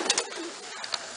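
Blue pigeons in a loft give soft coos, with a couple of brief calls near the start and a few more near the end over low background noise.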